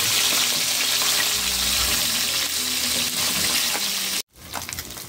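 Loud, steady crackling and sizzling of dalagang bukid fish frying in hot oil, close up, cutting out briefly before resuming more quietly.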